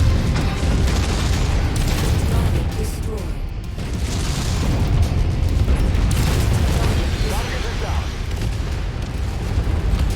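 Artillery shells explode in MechWarrior 5: Mercenaries as a series of heavy, rumbling booms that roll into one another, loud and close, over a constant din of battle.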